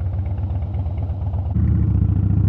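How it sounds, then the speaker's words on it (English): A 2010 Rocker C motorcycle engine fitted with an aftermarket exhaust rumbles close by with a deep, lumpy beat, then swells louder and fuller as the throttle opens partway through. "all of that generation of motor just sounds so good once you throw an exhaust on it"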